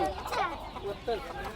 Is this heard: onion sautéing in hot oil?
no